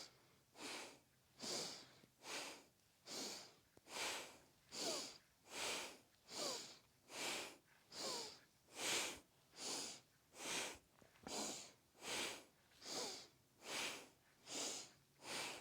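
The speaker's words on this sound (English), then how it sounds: "Inhale forward, exhale back." Steady, even breathing during a kundalini yoga practice, about sixteen inhale-exhale cycles in a slow regular rhythm, each breath an airy, close-up rush with no talking.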